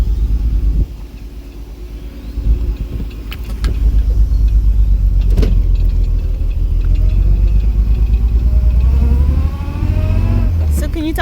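A 1938 SS Jaguar 3½ drophead rumbles loudly from inside the cabin while driving around the block, its engine pulling and easing with speed changes and light voices joining in.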